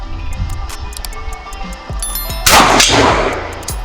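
A single loud, sharp gunshot from a Micro Draco pistol cracks out close by, preceded by small metallic clicks and handling noises.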